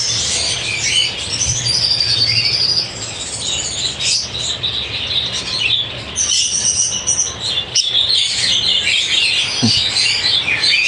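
An exhibition budgie chirps in quick, high bursts while being handled during feather trimming, close and fairly loud over a constant background hiss.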